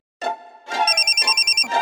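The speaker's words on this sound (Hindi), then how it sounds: "अरे आपका फोन।" A phone rings with an electronic ringtone, a short tone, then a longer tone followed by a rapid warbling trill of repeated pulses, loud and close with no talk over it.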